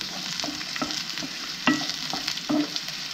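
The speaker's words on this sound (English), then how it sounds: "So now these are pretty much cooked, but I'm just going to let them cook down a little further." Hen of the woods (maitake) mushrooms fry in a pan, a steady close sizzle broken by several sharp scraping stirs at uneven intervals, with no talking.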